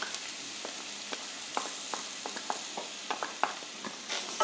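Grated fresh coconut sizzling in hot ghee in a pan for modak filling, a steady crackle with sharp pops and clicks scattered throughout, fairly close, with no voices.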